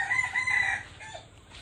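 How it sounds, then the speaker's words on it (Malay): A chicken crows and clucks nearby, the loud strained call coming first and then trailing off into softer clucking, with no voices heard. "Ini kita cari ayam kita."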